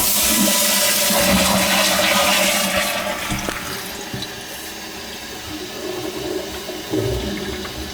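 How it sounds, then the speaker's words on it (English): A toilet with a leak at its base flushes loudly and close by, a rushing swirl of water that fades over several seconds into a quieter refill trickle, with no one talking. "Like a power flush."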